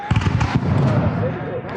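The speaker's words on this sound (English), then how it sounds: "Cannon!" Cannon fire during a Revolutionary War reenactment battle in the woods at Camden, 2023, with sharp loud blasts near the start followed by rumbling, and shouting voices over the noise.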